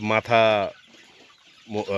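Sonali chickens on a poultry farm cluck close by in two short bursts, with a brief quiet gap between them.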